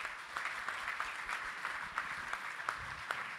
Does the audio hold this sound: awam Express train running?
no